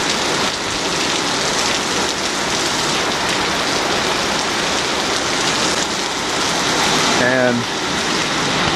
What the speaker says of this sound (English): We're in the middle of a rainstorm. It's the hardest rain I've ever seen in my life.